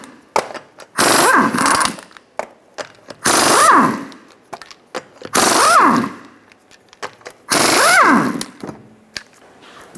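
Impact wrench zipping off the 21mm lug nuts on a 2007-2012 Nissan Altima wheel, four loud bursts of rattling hammering, each about a second long, separated by short pauses with small clicks and handling noises.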